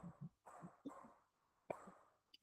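A dog barking repeatedly in short bursts indoors, at moderate distance, with pauses between barks.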